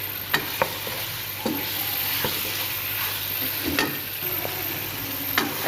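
Chicken sautéing in a pan with cumin and black pepper, a steady close sizzle broken by several sharp scraping stirs of a spatula, with no talking.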